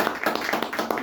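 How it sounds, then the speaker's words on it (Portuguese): Scattered hand clapping from a congregation during a Monday church service at a preaching point in Santo André, with irregular claps rising over a short stretch and no talk. "As palmas"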